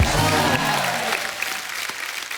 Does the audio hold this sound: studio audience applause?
yes